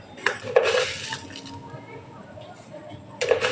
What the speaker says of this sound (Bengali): এখন আমি 2 চামচ চিনি দেব।